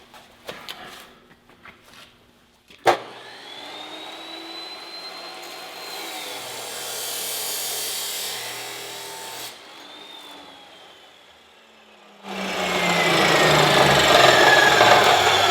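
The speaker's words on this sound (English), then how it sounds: "what we're gonna do is we're just gonna chop into this 1-inch square tube" A chop saw spins up with a rising whine and bites into 1-inch square steel tube, a loud grinding cut that pauses briefly and then resumes harsher and louder.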